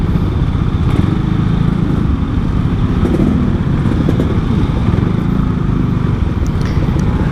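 Honda Beat motor scooter carrying a passenger through jammed traffic, a steady engine drone with dense traffic noise and rumble filling the whole stretch.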